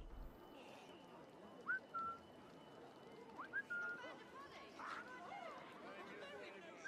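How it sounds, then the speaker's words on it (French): A character whistles in the stealth game Assassin's Creed Syndicate, giving a few short, thin whistle notes over busy ambient city noise with distant chatter and hoofbeats, moderately faint and spread across the scene. "apparemment je siffle mais il entend rien"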